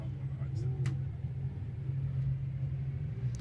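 A long queue of Lamborghini Super Trofeo race cars sits idling on the circuit at Spa under a safety car, making a steady low engine rumble under commentary, with a couple of faint sharp clicks.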